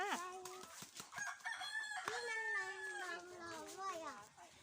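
Japanese chickens cluck and crow in a farm barnyard in Uttaradit, Thailand, with bird calls rising and falling over one another at moderate distance, faint background activity.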